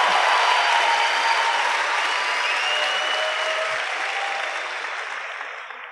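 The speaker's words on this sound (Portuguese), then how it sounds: "caloroso aplauso de boas-vindas" A large audience at a leadership talk gives a warm welcoming applause, a loud, dense and sustained roar of clapping that fills the whole stretch and slowly tapers at the end.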